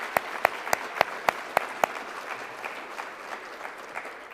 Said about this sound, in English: And let's give him another round of applause for taking time out of his day